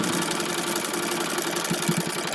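A sewing machine stitches fabric right along the fold line of a summer croquet ensemble kit, a close, steady mechanical whir that runs without pause.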